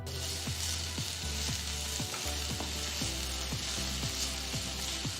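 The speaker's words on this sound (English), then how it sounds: "Once the pan is heated, add some finely chopped garlic, some finely chopped ginger, 2 green chilies finely chopped, 1 small onion finely chopped" Chopped garlic, ginger, green chilies and onion fry in hot oil, giving a continuous dense hiss with a steady, even pattern of small ticks running through it and no talking.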